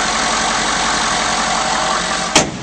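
A 2011 Ford F-250 Super Duty engine idles smoothly and loudly from up close, a steady, even rumble with a short sharp knock near the end.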